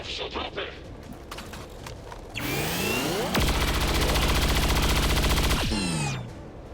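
Gunfire in the video game XCOM 2: War of the Chosen: a few sharp shots lead into a sweeping, rising weapon whine, then a loud sustained burst of rapid automatic fire that cuts off and trails away.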